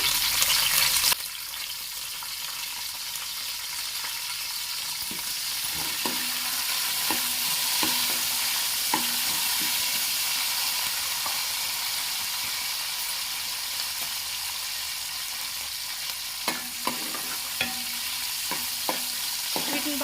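Sliced green chillies and curry leaves fry in hot oil with a continuous loud hiss that starts abruptly, joined by occasional clicks and scrapes of a spoon as they are stirred, close by, wordless.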